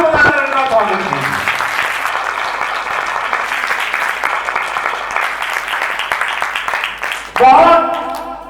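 A crowd at a Ram Katha religious gathering gives loud, sustained applause, a dense wash of clapping that carries on for several seconds and swells briefly again near the end, with music tones at the start.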